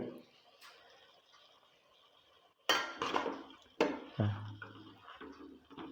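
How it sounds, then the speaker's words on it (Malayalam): Chicken being stirred in a cooking pan with a utensil, giving a few clinks and scrapes against the metal after a quiet stretch, close and moderately loud. "അപ്പോൾ ഒന്ന് ഇളക്കി കൊടുക്കാം നമുക്ക്."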